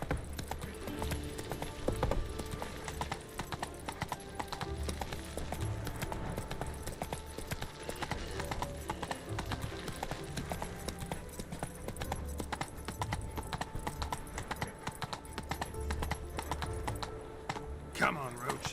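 Roach, a horse in The Witcher video game, gallops with steady clip-clopping hooves over a dense, busy game soundscape of music and ambience, with voices talking at times.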